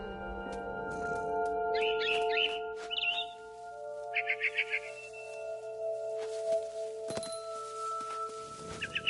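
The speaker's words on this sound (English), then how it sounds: "Then I heard chirping outside my window. It was a barn swallow going back to her nest." A barn swallow chirps in short bursts of quick twittering notes over a steady tonal music bed in What Remains of Edith Finch, with a few soft thuds between calls.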